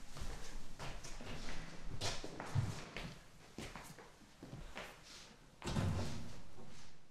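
Something strikes a door in an indoor horror-film scene, giving several sharp thuds and knocks spread through the clip, with a heavier bang near the end.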